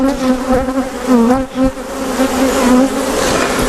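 Dense buzzing of a honey bee colony during a hive split after a puff of smoke, a loud steady drone with wavering pitch that fills the whole stretch without talk.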